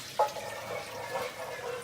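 Water is poured into a pan holding biryani masala for Bangalore donne biryani, making a short, soft splash followed by a quiet, steady trickle, close and faint with no talking.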